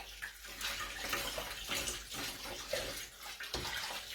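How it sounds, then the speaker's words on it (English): Tap water splashing steadily over a gutted trout as blood is rinsed out, soft and close with uneven gurgling. "there's a bit more blood to rinse out"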